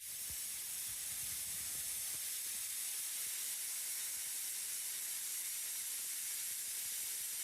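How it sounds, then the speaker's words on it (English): A pressure canner vents steam in a steady, loud, unbroken hiss that holds constant throughout, with no voices present. "we need to see the steam shooting out of this vent"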